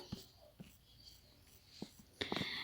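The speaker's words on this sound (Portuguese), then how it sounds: "eu vou desenhar aqui uma chapa" Marker or pen strokes on a board while drawing a steel plate, a few short scratchy squeaks spaced apart, then a busier cluster of quick strokes at the end, faint and close.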